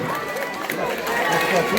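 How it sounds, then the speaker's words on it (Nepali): A crowd claps loudly for a cash-prize recipient at a Nepali honouring ceremony, a dense, continuous wash of hands that swells slightly in the second half, with voices mixed in. "जोरदार ताली"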